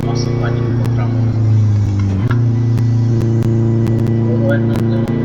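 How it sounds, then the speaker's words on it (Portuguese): Chevette 1.6 turbo engine revving hard, loud and close, with a sustained throaty drone and rising pitch swells, punctuated by sharp clicks and pops. "Vou dar aquele aceleradinho aqui"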